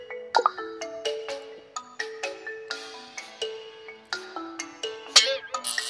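Phone ringtone in a stickman video game: a bright, tuneful electronic melody of rapid plucked notes repeating in a steady rhythm, loud and clear with no talking over it.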